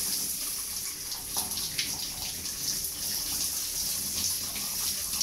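Water runs steadily from a newly replaced shower mixer tap, a continuous hissing spray at moderate level with slight splashing variation and no talk.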